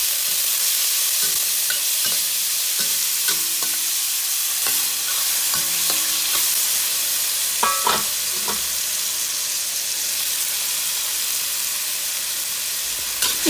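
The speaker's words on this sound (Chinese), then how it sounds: "热锅冷油，先把菠萝翻炒一下" Pineapple stir-fried in a hot wok with oil added to the hot pan sizzles loudly and continuously, with intermittent spatula scrapes and knocks against the metal.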